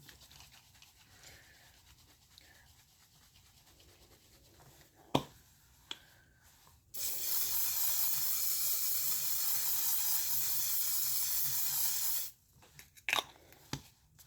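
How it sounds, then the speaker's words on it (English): A steady, broad hiss of Juvia's Place Ready Set Seal matte makeup setting spray runs for about five seconds, loud and close, with a few small clicks and taps before and after. "we're gonna go in with Juvia's Place Ready Set Seal Long Lasting Matte Spray."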